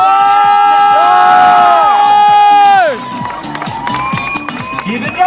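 A crowd at a mountain bike world championship opener cheers and whoops loudly over a steady, rising electronic tone, then keeps roaring and shouting more raggedly after the tone falls away, with an announcer's voice mixed in.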